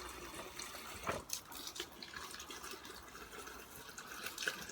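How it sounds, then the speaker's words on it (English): Liquid tomato plant feed is poured into bottles, a faint, close trickle and splash of liquid with a few small knocks and clicks, with no talking. "filling my bottles with the feed"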